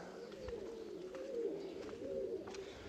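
Racing pigeons cooing at the loft during a competition flight, repeated soft throaty coos, fairly faint, with light rustling behind.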